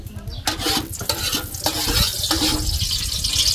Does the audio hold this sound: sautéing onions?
yes